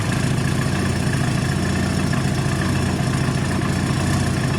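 A bobber motorbike engine runs steadily at idle after being switched on at the ignition, a close, continuous throbbing rumble with a fast even pulse and no voices.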